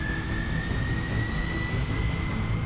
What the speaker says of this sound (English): you watch the engines spool up.